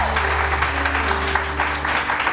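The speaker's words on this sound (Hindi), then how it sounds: "हुमा के लिए बहुत सारी तालियां जी" Studio audience clapping steadily for Huma, a guest on a morning TV show, dense applause continuing throughout with a low steady hum underneath.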